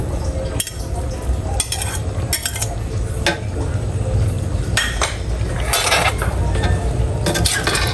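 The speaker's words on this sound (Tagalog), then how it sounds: "Ayan at atin na pong hahaluin." A spoon stirs cheese, brown sugar and broth in a pot, clinking against the metal again and again in a steady rhythm over a low cooking hiss, close and fairly loud.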